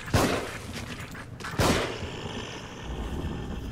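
Two sharp, heavy gunshots ring out about a second and a half apart in The Evil Within, each a punchy boom with a short tail, followed by low ambient rumble.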